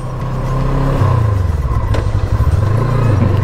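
An FKM Glider 500 motorcycle engine revs up to around 6,000 rpm, a loud, steady low drone that rises and falls in pitch with a throbbing pulse.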